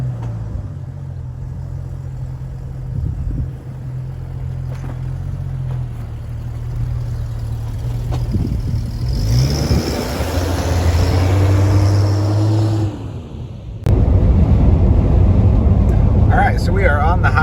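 Jeep Cherokee XJ on 31-inch tires cruising at highway speed around 70 mph, a steady low engine drone and road roar inside the cab, with someone talking over it and a louder surge of rumble near the end.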